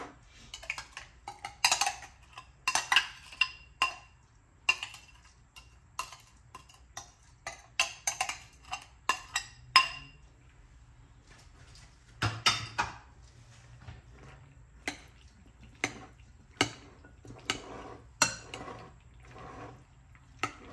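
Macaroni salad is stirred in a bowl, giving a steady run of close, sharp clinks and taps from a utensil against the bowl, broken by a short pause partway through.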